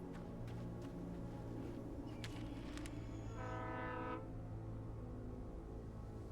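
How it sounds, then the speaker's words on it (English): A train rolls past in the dark woods of the video game Alan Wake, a low rumble under a sustained horn blast that rises and then cuts off. "Is that a train?"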